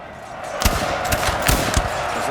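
Musket volleys ring out in a Napoleon Total War multiplayer battle, several sharp cracks in quick ragged succession over a busy background din.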